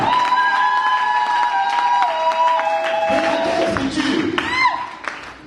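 A congregation applauds and cheers for the Lord at a church gathering, a broad wash of clapping and crowd noise rising after sustained tonal music, then fading near the end.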